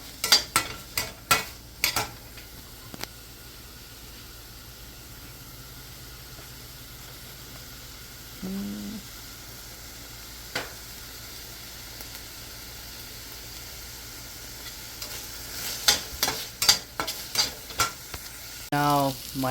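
Onions sizzling over raised heat in a pan for ramen with steak, a soft steady hiss with occasional scraping stirs and clicks at the start and end, no talk.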